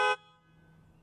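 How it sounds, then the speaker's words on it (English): A Tesla Model 3's horn gives one short, loud honk that cuts off quickly and leaves a quiet background. "honk the horn"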